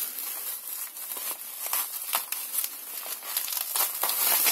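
An antistatic plastic bag holding a replacement display module for an LG V400 crinkles continuously up close, in dense crackling bursts that grow slightly louder toward the end.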